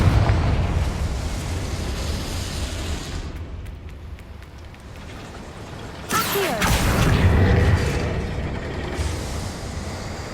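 A Confringo explosive spell is cast in the video game Hogwarts Legacy, with a sudden loud burst partway through followed by a roaring, crackling blast that fades over a few seconds, over a constant rumbling background.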